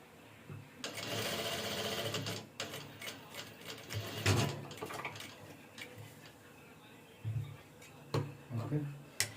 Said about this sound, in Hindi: पूरा नीचे तक सिलाई मारते हैं।